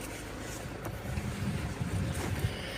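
A breeze blows outdoors in the mountains, heard as a steady, rumbling rush of wind buffeting the microphone for about three seconds, with no talking.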